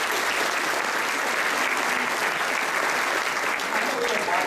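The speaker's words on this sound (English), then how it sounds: "So give yourselves another round of applause." Audience applause for students at an inspiring-student award event in Long Beach, a dense, steady wash of clapping from a large crowd that holds at full strength throughout.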